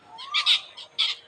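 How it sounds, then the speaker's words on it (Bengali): Several birds in trees giving short, harsh squawks and chirps in quick bursts, close and clear against a quiet background. "সুন্দর সুন্দর পাখি ডাকাডাকি করছে ক্যাচর মেচর করে।"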